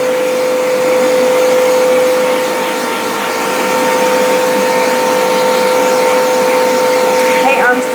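A spray tan extraction system's blower dries the skin with a loud, steady, close whoosh and a constant tonal hum that runs throughout without a break.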